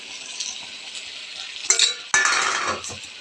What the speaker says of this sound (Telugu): ఇప్పుడు మనం బఠానీ వేసుకుందాం